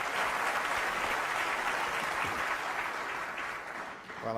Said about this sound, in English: that's the longest round of applause I've ever heard for a plant